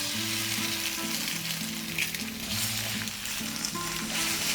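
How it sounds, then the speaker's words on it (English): Four eggs are poured over crispy tortilla pieces in a pan for Mexican migas and fry with a steady, bright sizzle, alongside a faint background tune and occasional stirring. "So I'm gonna add 4 eggs here."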